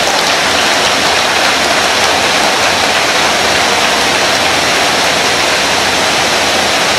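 Heavy rain falls at an outdoor speech event as a loud, unbroken hiss that fills the whole stretch, with no voices.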